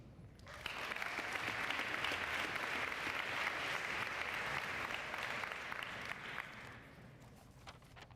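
An audience at a spring sports awards ceremony claps to welcome Coach Yost: sustained, even applause from many hands that starts abruptly, holds for several seconds, then tapers off, heard from a moderate distance.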